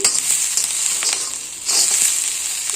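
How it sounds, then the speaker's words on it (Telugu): Paneer and cashews frying in a pan, a steady close hissing sizzle with light stirring scrapes, loud and continuous with no talk. "ఈ పన్నీరు ఇట్లా అన్నీ వేగిపోతాయి మంచిగా"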